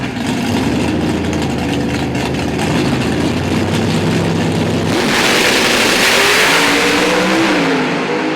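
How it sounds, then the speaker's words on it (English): Pro Stock doorslammer drag race cars at a PDRA event in Bowling Green, Kentucky, idle loudly and then launch, their engines roaring in a sustained, loud blast that swells midway as they accelerate down the strip. "And this is a drag race."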